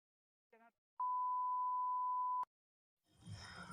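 A phone call is cut off: a brief warbling blip, then a single loud steady electronic beep lasting about a second and a half that stops abruptly, followed by low rustling noise.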